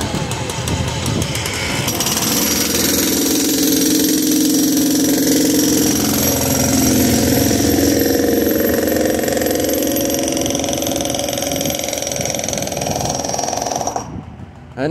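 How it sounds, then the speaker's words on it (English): A loud jackhammer pounds continuously and close by at a stream improvement construction site, a harsh rapid hammering that drowns everything else, then cuts off near the end. "they were running that jackhammer and that's all you could hear for the most part"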